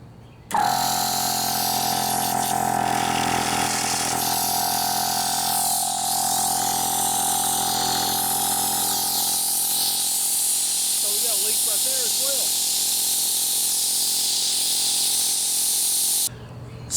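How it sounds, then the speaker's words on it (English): A Gobege 12-volt compressor runs with a steady motor drone while air hisses continuously from a leaking hose and tire adapter, loud and close for about sixteen seconds before cutting off. "So the air hose leaks and the tire adapter leaks"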